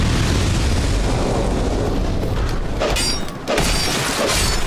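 A dense rumbling explosion roar in Dark Souls 2 fills the scene, with a brief dip and a sharp crackling burst near the end, loud and close throughout.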